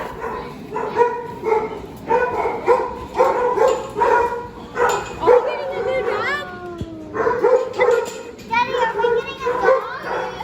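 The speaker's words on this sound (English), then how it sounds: "It's our new dog!" A newly arrived family dog gives a rapid, close series of yips and barks mixed with high whimpering whines. Excited voices talk over and between them.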